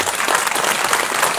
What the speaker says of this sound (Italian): qui chiedo un applauso gentilmente